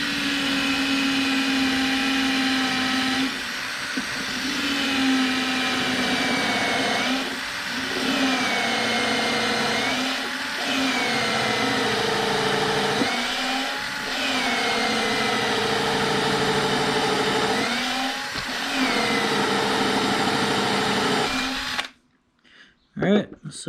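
A power drill drives a couple of screws into a wooden night stand, a loud repeated whirring whine in several bursts with short pauses, ending in near silence, with a person talking at times.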